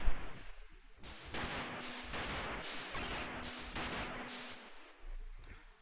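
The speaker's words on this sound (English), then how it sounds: "Nice explosions there." Repeated bursts of explosions and gunfire from the Amstrad CPC game Strider II, loud crackling blasts arriving in a rapid irregular rhythm, alone with no voices.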